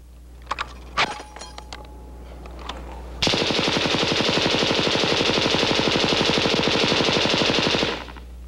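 A Heckler & Koch belt-fed machine gun fires on a range: a few scattered clicks and clanks, then a long sustained burst of rapid, evenly spaced shots lasting about five seconds before stopping abruptly.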